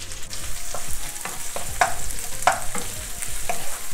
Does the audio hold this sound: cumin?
yes